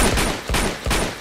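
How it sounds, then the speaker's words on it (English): Gunfire in Uncharted 2 comes as three heavy, booming shots or short bursts spaced about a third of a second apart, loud and close with echoing tails. "Lazarevich's camp isn't immediately alerted with all the gunfire"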